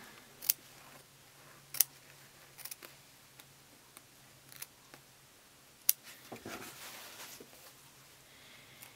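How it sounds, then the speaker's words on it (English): Scissors cut into the center of a fabric Dresden Plate appliqué quilt block, with a few sharp close clicks and snips spaced out over quiet, steady room noise. "And then to cut the center, I'm just gonna open this up."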